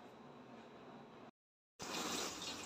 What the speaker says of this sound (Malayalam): ചായ ഇവിടെ തിളയ്ക്കുന്നു.